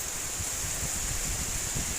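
Strong wind blowing during heavy rain, a steady broad roaring rush with low gusting rumbles, loud and continuous with no talk.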